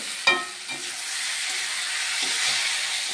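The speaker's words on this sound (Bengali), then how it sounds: "এই যে আলুগুলো দেখো মশলার উপরে কষিয়ে নিচ্ছি" Potatoes sautéing in spice masala in a pan give a soft, steady sizzle and hiss, broken by a few brief clanks and scrapes of stirring, close, with no voices.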